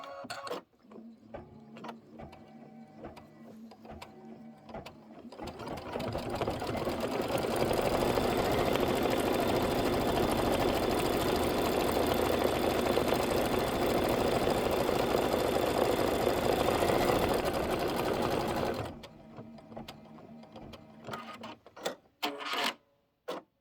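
A computerized embroidery machine stitches a quilting design in Clover thread, a steady loud mechanical whir and rapid needle chatter running about thirteen seconds, framed by quieter handling clicks before and after.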